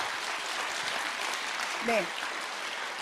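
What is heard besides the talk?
audience applause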